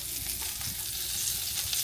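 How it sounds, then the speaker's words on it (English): Bacon and sausage grease poured into a hot pan sizzles and crackles steadily, a close, dense frying hiss that holds without a break. "The best eggs are made with the grease that you cook the bacon and sausage in. So we're going to pour that in there."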